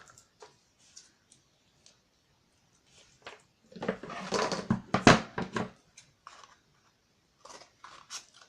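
Scissors cutting apart a recycled paper tube, a cluster of crisp snipping and crunching paper sounds in the middle, with sparse small clicks and handling noises before and after.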